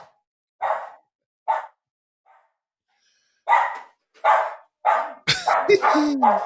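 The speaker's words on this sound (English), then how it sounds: "You can probably hear the dog barking now." A dog barks repeatedly nearby in separate loud bursts with short pauses, ending in a rapid cluster of barks and yips.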